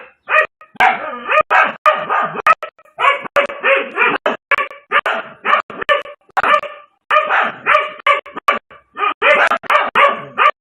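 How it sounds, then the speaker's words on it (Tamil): Two dogs bark hard and repeatedly at a cobra, in rapid overlapping bursts with yips, loud and close, with short gaps between volleys. "வேதரத்தினம் வளர்க்கும் 2 நாய்களும் அதனை குறைத்து விரட்டி விட முயற்சித்தது."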